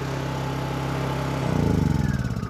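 A generator engine fitted with a tachometer and hour meter, running steadily at about 4000 RPM, then revving up partway through, with a deeper, louder, throbbing roar close by.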